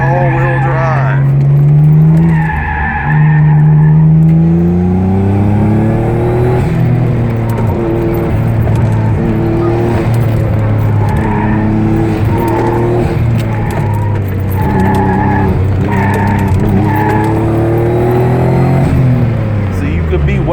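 Twin-turbo all-wheel-drive car with 18g turbos making about 380 wheel horsepower, driven hard with a loud, sustained engine note that rises and falls through gear changes, close up, with voices talking over it.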